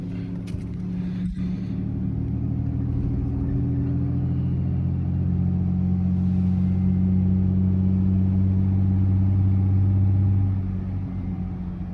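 A pickup truck fitted with a DK2 snow plow drives along, its engine holding a steady, loud low rumble throughout with no clear revving, easing off slightly near the end.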